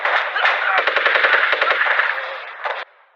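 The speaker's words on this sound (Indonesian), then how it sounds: "Di sana Rich terkena tembakan di bagian punggungnya" Rapid bursts of automatic gunfire in a film crackle over a dense, noisy action soundtrack, a string of sharp shots followed by a few more before it cuts off.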